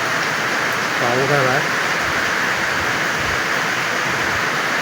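Steady rain hisses throughout near a forest, with someone speaking briefly over it near the start.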